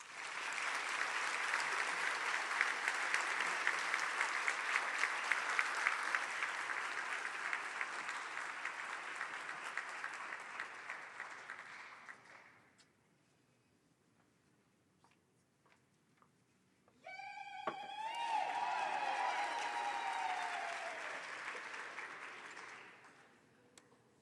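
Applause from the audience at a health sciences students' pledge ceremony swells loud and sustained, then fades to near silence. A voice speaks briefly before a second round of clapping starts, mixed with a whistle or cheer.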